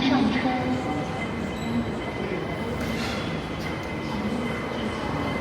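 An airport transit train in Hong Kong rumbles steadily inside its cabin, with faint wheel squeal and a few tonal chimes. A recorded announcement and nearby voices can be heard over it.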